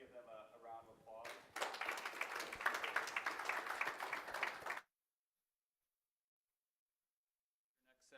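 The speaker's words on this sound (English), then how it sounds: "Let's give them a round of applause." A conference audience applauds after a session, a dense burst of clapping that follows someone speaking, lasts about three seconds and cuts off abruptly into silence.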